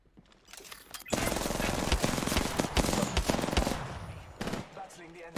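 Rapid automatic gunfire in Apex Legends, a dense burst that starts abruptly and holds loud for several seconds, with a few distinct single shots and a thinner tail at the end.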